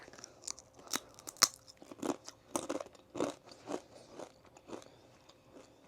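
Close, crisp crunching and chewing of ghost-shaped cheese and chili crisps from a Halloween food range, with a run of separate bites and chews spread through the stretch and no talk.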